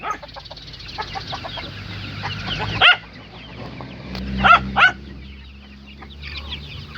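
Forty-day-old chicks let out onto grass cluck and peep outdoors, with a few louder calls standing out midway and a dog faintly in the mix.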